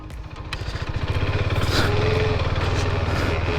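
A Husqvarna Svartpilen 401 motorcycle ridden on sand, its engine pulsing in a steady throbbing rhythm that swells in loudness over the first two seconds and holds, close and without talk.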